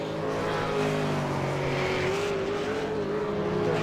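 A Ford Falcon V8 Supercar races at Road Atlanta on newer tyres, its engine holding a loud, steady, sustained roar with a rising tone throughout.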